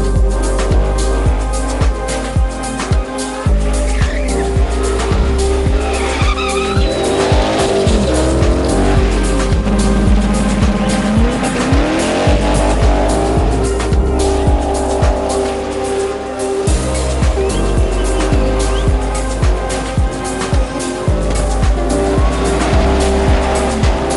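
At a burnout fundraiser event, a car spins its tires with loud, continuous engine revving and sustained tire squeal, the screech rising and falling for the whole stretch with no voices.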